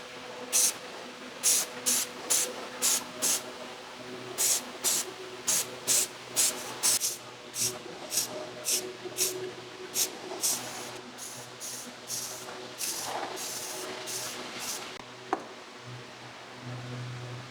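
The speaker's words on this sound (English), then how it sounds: "we're going to go back and spray it flat black" A spray paint can lays a flat black base coat on a Lich King helmet in a long run of short hissing bursts, roughly one per second, followed by a steadier hiss and a faint knock.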